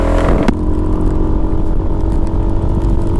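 Suzuki Skywave 250 Type S scooter engine buzzes steadily at high revs while riding on the road, a loud continuous drone with a brief clatter near the start.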